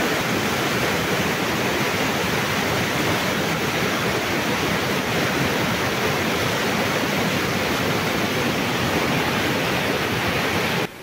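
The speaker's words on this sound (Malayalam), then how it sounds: "ഇരുവഴിഞ്ഞിപ്പുഴയിൽ അപ്രതീക്ഷിതമായി ഉണ്ടായ മലവെള്ളപ്പാച്ചിലിൽ നിർത്തിവെച്ചത്" Flash flood on the Iruvazhinji river, the floodwater rushing in a dense, unbroken roar that stays loud and steady from start to finish with no voices.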